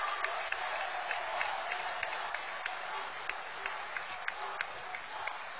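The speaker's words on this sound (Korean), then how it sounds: "홍준표 후보께 뜨거운 성원의 박수 다시 한번 부탁드립니다" A crowd applauds steadily at a Grand National Party presidential candidates' joint campaign rally, a dense, sustained wash of clapping that holds even throughout with scattered sharper claps poking through.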